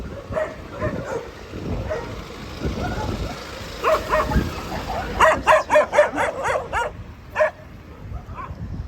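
Several dogs, kept confined together, bark in a rapid burst of sharp, repeated barks, with scattered yips and whimpers before and after, amid background noise, in Majuro, Marshall Islands.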